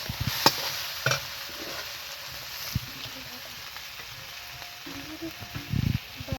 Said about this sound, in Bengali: ধনে পাতা দিয়ে দেবো, দিয়ে নাড়াচাড়া করবো একটু।